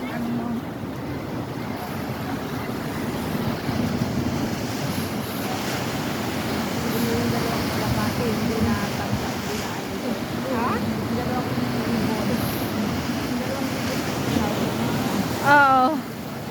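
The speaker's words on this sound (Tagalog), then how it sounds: "Ito yung dalampasigan ng Center Island Beach." Ocean waves wash onto the shore at Centre Island Beach in a steady, continuous surf, with wind buffeting the microphone throughout and faint voices now and then.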